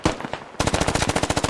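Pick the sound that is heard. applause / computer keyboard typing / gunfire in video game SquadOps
gunfire in video game SquadOps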